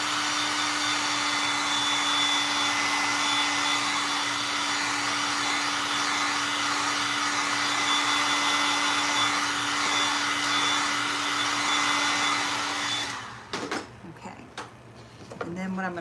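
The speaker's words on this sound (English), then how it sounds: "I'm going to dry that real quick before I go to put my hands in it again." A hair dryer drying paint on a canvas blows with a steady, loud whine and airy roar for about thirteen seconds, then shuts off, followed by a few brief handling clatters.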